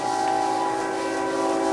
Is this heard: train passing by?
yes